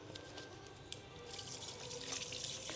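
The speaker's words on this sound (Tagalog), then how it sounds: "Maghugas ako ng kamay." Tap water running into a marble sink while hands are washed with soap, a steady close hiss of flowing water that grows louder and brighter partway through, with no talking.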